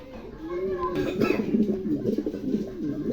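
A pair of large white pigeons coo in a loft, a continuous low burbling close by, with higher chirps and a voice briefly rising over it.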